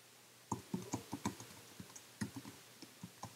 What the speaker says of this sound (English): And you type what you want to display in the text box.